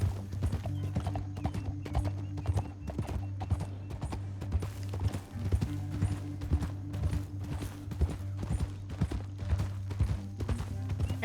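Horse hooves clip-clop in a steady trotting rhythm over a low droning hum, with a brief whinny in the mix, in the video game Red Dead Redemption 2.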